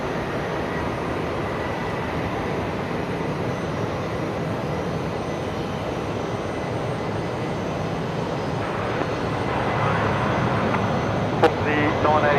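A Qantas Boeing 737 jet at Brisbane Airport gives off a steady, broad engine rumble that grows slightly louder toward the end, with a voice speaking over it.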